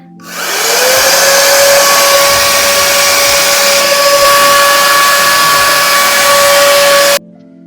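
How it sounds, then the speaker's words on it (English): A hair blow dryer switches on, whines up to speed, and runs with a loud, steady airy hiss and high hum before cutting off abruptly. "This blow dryer gets pretty warm"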